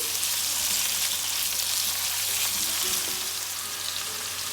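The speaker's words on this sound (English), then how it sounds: "We're just going to fry them until the rawness goes away." Big chunks of raw onion fry steadily in a hot pan with oil, a constant dense sizzle that stays even and close throughout with no talking.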